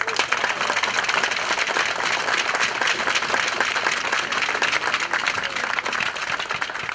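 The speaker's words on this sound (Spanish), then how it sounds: "les pido un gran aplauso a todos los asistentes" Attendees at the opening ceremony of an international senior tournament give sustained, even applause, a dense and moderately loud clapping that continues for several seconds with faint crowd murmur beneath.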